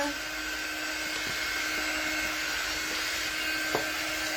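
A hair dryer runs steadily while drying a freshly made bee craft before it goes into a drop-in box frame, a constant whirring blow at even loudness throughout with a brief faint knock near the end.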